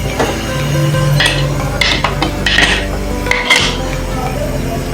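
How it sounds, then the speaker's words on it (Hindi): A metal pressure cooker is set on a lit stovetop, giving a few sharp clanks and clinks of metal on metal over a steady burner hum. "हमने चूल्हा ऑन कर दिया है, कुकर ऊपर रख दिया है।"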